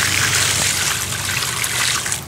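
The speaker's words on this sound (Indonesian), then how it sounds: "Ini anggur yang sedang berbunga ini kita siram" Dissolved fertilizer solution is poured onto a flowering grapevine, producing a loud, continuous splashing gush of water close by for a couple of seconds.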